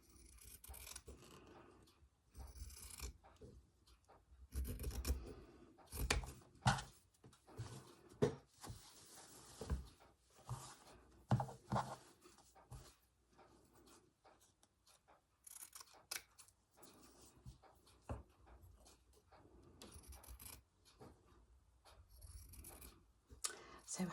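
Small scissors snip embroidery thread on fabric in a quiet room, a series of faint, brief cuts and rustles spread unevenly with pauses between them.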